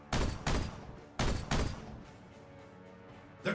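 Gunfire in the Warhammer 40,000: Regicide strategy game comes as four heavy, booming shots in two close pairs, each trailing into a rumbling decay, with one more shot at the very end.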